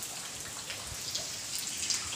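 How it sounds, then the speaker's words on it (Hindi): Steady rain falls outdoors during the day after a night of rain, a dense, even hiss of drops hitting surfaces close by, with no voices. "पानी अभी भी गिर रहा है"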